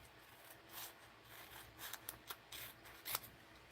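Quiet snips of scissors cutting sticker paper in a mixed-media craft session, a few soft crisp cuts spaced irregularly over faint background hiss.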